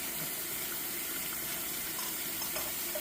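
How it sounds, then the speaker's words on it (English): Cool water runs steadily from a tap into the big pot of a Presto electric pressure canner, a constant splashing rush at low level. "We're going to put some cooler water in there."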